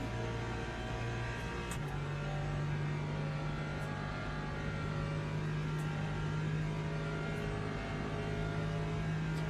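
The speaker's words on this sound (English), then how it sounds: "Oh, this LMP3 is super slow on the straight." An LMP3 prototype race car in the Le Mans Ultimate sim racing game at Paul Ricard, heard as a steady, fairly faint engine drone holding a nearly constant pitch down a straight, with no talk.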